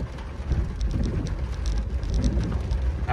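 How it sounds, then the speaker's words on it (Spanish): Light rain falls on a street in Ometepec, Guerrero, a steady close patter of drops on hard surfaces with a low rumbling wash underneath and no voices. "donde se presenta una ligera lluvia"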